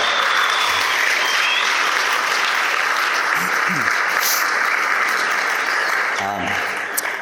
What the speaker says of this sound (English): give these guys a round of applause for making today happen fairly